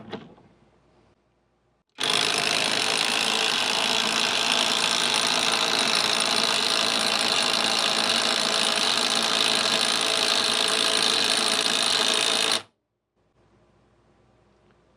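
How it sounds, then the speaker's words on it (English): A Hyper Tough 12 V brushless 3/8-inch impact wrench with a 4 Ah battery runs nonstop for about ten seconds, a loud, even, high-pitched whir. It starts and stops abruptly, with quiet gaps on either side. "This is our old 3/8 brushless impact wrench with the 4 amp hour battery, and we're going to go ahead and do a 10-second run."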